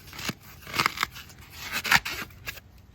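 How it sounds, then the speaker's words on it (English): Regular scissors cut through foam tubing insulation in a few crisp, close crunching snips with short pauses between them, heard alone without talk. "just regular scissors can cut the insulation and the tubing"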